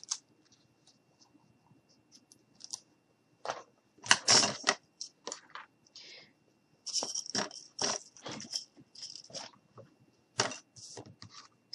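Yarn being cut in a quiet room: close, crisp bursts of snipping and rustling that come in uneven clusters, with several louder snips in the middle and no voices.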